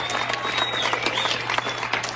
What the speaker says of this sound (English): People keep clapping.